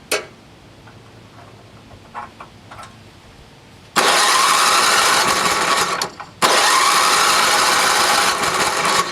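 NOMA 8hp snowblower engine trying to start: after a few faint clicks, a loud rough cranking roar runs for about two seconds, cuts briefly, then resumes steadily, close and alone.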